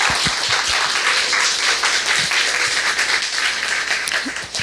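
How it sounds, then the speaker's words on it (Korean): An audience applauds at an evening classical concert in an arts hall, a dense, steady wash of clapping that carries on evenly and tapers off slightly at the end. "다시 한번 박수 한번."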